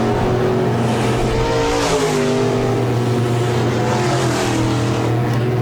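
Sport Mod race cars in a heat race at a dirt speedway, engines roaring and rising in pitch as they pass, several cars overlapping in a loud continuous snarl from trackside.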